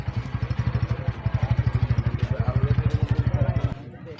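A nearby motorcycle engine thumps in a fast, even pulsing putter for several seconds, loud and close, cutting off abruptly near the end, with faint voices behind it.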